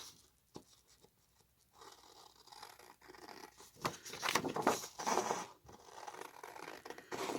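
Scissors cutting paper tags, with irregular snipping and rustling strokes that grow louder and denser partway through, close and alone without talk.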